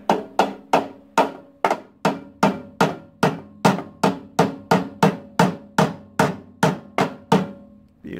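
A hammer taps a new bearing into place on a snow blower, striking about twenty times in an even, steady rhythm, each knock sharp, loud and close with a short ringing decay.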